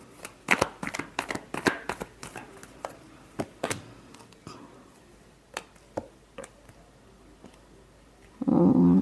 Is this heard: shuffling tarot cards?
yes